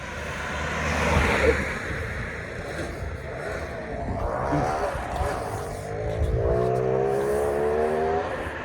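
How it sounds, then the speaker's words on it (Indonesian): A car drives past outdoors on a university campus in Turkey, a broad rushing sweep that swells and fades across several seconds, with a steady open-air background and no clear talk. "Oh, ada mobil."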